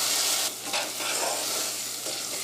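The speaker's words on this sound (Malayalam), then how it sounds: "നമ്മൾ സവാള ചെറുതായിട്ടൊന്ന് മുരിഞ്ഞ് തുടങ്ങിയിട്ടുണ്ട്." Sliced onions with salt fry in oil for a Kerala-style egg curry, giving a near, continuous sizzle with spoon stirring through it over a low steady hum, no talking.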